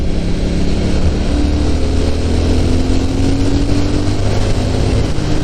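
A Triumph motorcycle engine revving out on the Hakone Turnpike in Japan, a loud, close, sustained drone with rising engine tones as it climbs through the revs, steady throughout with no talking.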